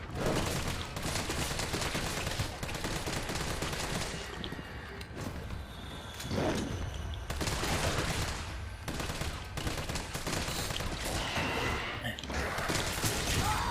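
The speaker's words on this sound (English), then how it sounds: "The assault rifle just doesn't feel like a very good weapon." Sustained assault rifle fire in Resident Evil 3 Remake, dense bursts running nearly the whole time, loud and close with brief gaps, while a person talks faintly at points.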